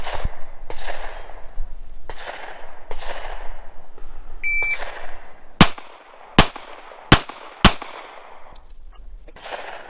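A string of four sharp, evenly spaced gunshots rings out at an outdoor shooting range during a timed drill, each crack loud and close, following earlier muffled shots and a brief shot-timer beep amid background noise.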